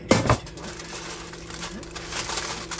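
Tin foil is crinkled and pressed into the basket of an air fryer, giving a sharp crumpling burst at the start followed by softer rustling and faint scraping.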